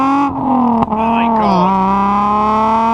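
An Alfa Romeo 75's 220-horsepower engine revs hard from the cabin, close and loud, its tone sweeping up and dipping back, then holding a sustained, tonal drone.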